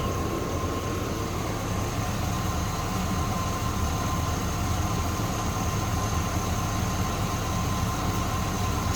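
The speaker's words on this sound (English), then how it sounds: "I'll go ahead and pop the hood so you can hear the motor run" The 6-liter Vortec engine of a 2003 Cadillac Escalade AWD runs at a steady idle with the hood open, a constant close hum and rumble with a faint whine above it and no talking.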